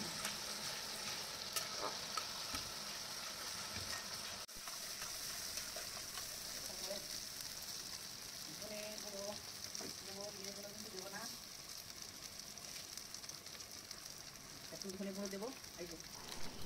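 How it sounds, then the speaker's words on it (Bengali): Spice paste for egg korma sautés in a pan, a steady broadband sizzle with intermittent scraping stir strokes and clinks throughout, close and moderately loud, with faint voice-like tones in the background. "এবার মশলাটাকে কষাচ্ছি ভালো করে"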